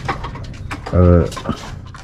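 A male pigeon gives a close, deep, throaty coo from a breeding coop, amid rustling and soft background chatter.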